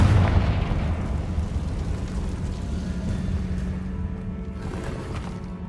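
A Confringo fire spell detonates in the video game Hogwarts Legacy, a loud rumbling blast with a dense low boom that rolls on and slowly fades over several seconds.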